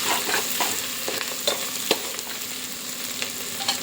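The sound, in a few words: mutton liver frying with turmeric, being stirred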